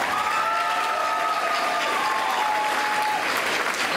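An audience at a weekend music event breaks into steady, sustained applause, a dense continuous clapping that fills the whole stretch, with a faint whistle-like tone ringing above it.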